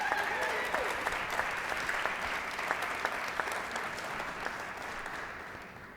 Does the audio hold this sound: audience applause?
yes